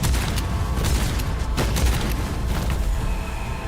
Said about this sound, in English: Gunshot nearly taking my face off tells me right there.